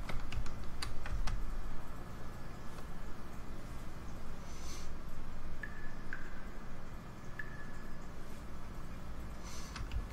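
Computer keyboard keys clack in short bursts of typing while playing King's Quest, with a few isolated taps and faint game tones between them, close but fairly quiet with no talking.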